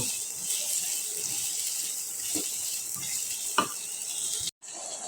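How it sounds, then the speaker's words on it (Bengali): Pre-boiled potatoes sauté in a hot pan for aloo dum, giving a steady, close, even sizzle throughout with a couple of faint stirring scrapes. "পূর্ব থেকে সিদ্ধ করে নেওয়া আলুটা এই পর্যায়ে আমি আলুটা কিছুক্ষণ কষতে থাকব"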